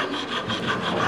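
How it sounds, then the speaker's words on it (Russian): A child sands a small hand-carved wooden hedgehog meant as a pen holder, giving a steady, close, rasping rub of abrasive on wood in continuous back-and-forth strokes with no pauses. "Я из дерева сделал ежика и сейчас буду шлифовать его."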